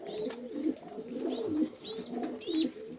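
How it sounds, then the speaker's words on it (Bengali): A pair of pigeons, a male and a female, coo repeatedly close by in a steady rolling rhythm, with a faint high chirp now and then. "এখানে দুইটা কবুতর আছে"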